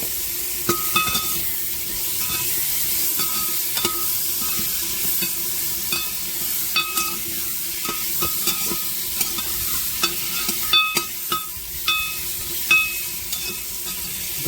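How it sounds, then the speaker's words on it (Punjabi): Potatoes and chili tempering fry in hot oil for cabbage sabzi, a steady close sizzle with scattered clicks and scrapes of stirring throughout, no voices. "ਮਿਰਚ ਭੁੱਜ ਗਈ ਹੁਣ ਆਪਾਂ ਪਾ ਲਾਂਗੇ ਵਿੱਚ ਆਲੂ"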